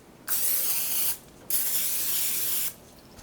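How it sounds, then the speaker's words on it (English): Two bursts of cooking oil spray hiss close by onto a pan, the first about a second long and the second slightly longer, separated by a brief pause. "Okay, now we spray the pan."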